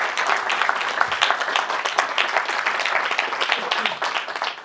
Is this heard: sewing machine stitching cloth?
no